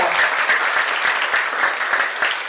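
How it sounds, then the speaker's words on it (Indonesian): Enthusiastic audience applause at the Plan Indonesia Catat Setiap Anak event, a loud, dense wash of many hands clapping steadily throughout. "Saya minta tepuk tangan sekali lagi yang sangat meriah."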